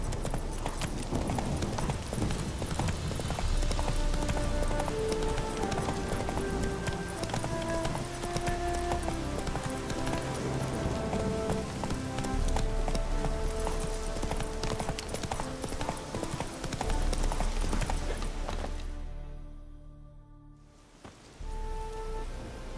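Steady clip-clop of horse hooves from The Witcher 3: Wild Hunt, a continuous rhythmic trot over a dense ambient game backdrop with faint tonal music, dropping briefly near the end before resuming.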